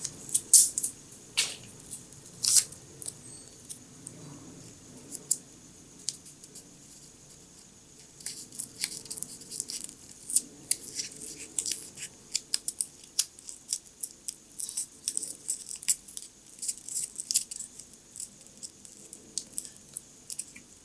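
Tape being wrapped around a fishing jig hook, producing a long run of close, quiet crinkling and sticky peeling ticks in irregular clusters over a soft, steady background hiss.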